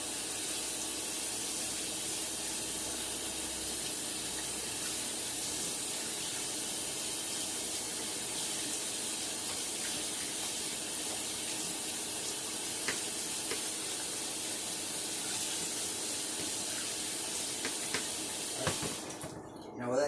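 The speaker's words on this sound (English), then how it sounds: "rinse with cold water" Cold tap water runs steadily over ramen noodles in a strainer, a continuous close hissing spray that holds for about nineteen seconds before cutting off near the end.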